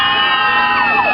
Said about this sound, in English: Give me a scream. Give me a loud cheerleader.